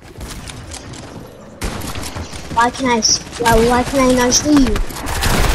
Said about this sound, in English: My gosh, stop shooting!